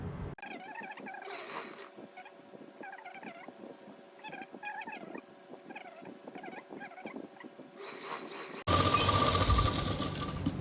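A sewing machine stitching a frock's lining, running steadily with a fast whirring, rattling hum close by, pausing briefly, then giving way to a loud broadband rush near the end.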